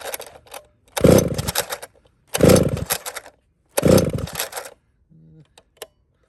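An old chainsaw, unused for nearly a year, is pulled over three times in a row, each yank giving a roughly one-second burst of rattling engine and cord noise, with quiet gaps and a few faint clicks between pulls.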